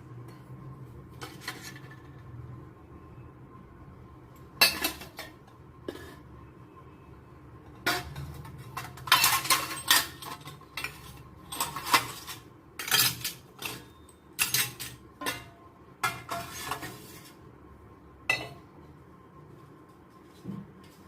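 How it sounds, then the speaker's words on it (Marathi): Copper and brass pots clink and scrape against each other in scattered bursts, louder clusters in the middle, over a low steady background hum. "तांब्याचे पितळची भांडी आहेत"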